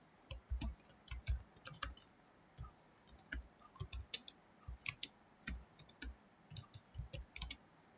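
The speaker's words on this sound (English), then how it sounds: "We have to first open the notepad. So we'll open it. Now we'll type the program." Typing on a computer keyboard while entering a program in Notepad: irregular bursts of crisp key clicks, close and fairly quiet, with short pauses between runs of keystrokes and no talking.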